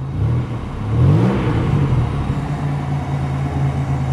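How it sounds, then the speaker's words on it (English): A car's engine roars as it drives off ramps, a loud close revving rise followed by a steady rumbling drone. "You heard the roar of the motor in that thing."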